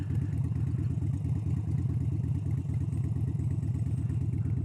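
A 2018 Harley-Davidson Dyna motorcycle creeping along slowly in a straight line on the clutch friction zone, its engine a steady, close, rhythmic low chug throughout with no talk over it.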